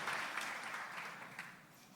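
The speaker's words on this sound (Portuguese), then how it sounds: "Vamos aplaudir a palavra de Deus." A church congregation applauds together after a Gospel reading, a steady wash of many hands clapping at moderate volume that gradually thins out, with no voices over it.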